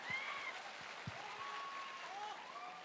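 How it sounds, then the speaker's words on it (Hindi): Audience applause at a speech event in a hall, a fairly faint spread of clapping that carries on steadily, with some distant voices and tones mixed in. "एक बार जोरदार तालियां और बजा लो"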